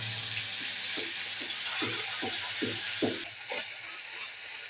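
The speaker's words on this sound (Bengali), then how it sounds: "আমি পুঁটি মাছগুলো ভেজে নেব" Small puti fish frying in smoking-hot oil in a village-style kitchen, a loud steady sizzle with a series of soft rhythmic scraping stirs underneath, close up and without talk.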